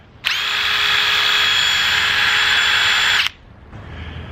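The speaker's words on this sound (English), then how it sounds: "If you're still using a corded drill to screw on your backer board, you will quickly realize a cordless impact driver will cut that time in half." A cordless impact driver runs in one sustained, loud whine for about three seconds while driving a screw into cement backer board during tile installation, then cuts off abruptly, leaving quiet room tone.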